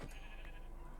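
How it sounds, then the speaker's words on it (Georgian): Goats bleat in the video game Minecraft, a single short, faint bleat over low background noise. "აბა იქ თხები არიან"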